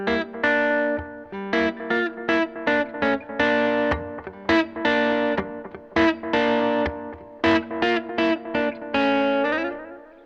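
Electric guitar riff played slowly with effects and light distortion, chords and notes landing on the upbeats in a stop-start rhythm, loud and close with no talking.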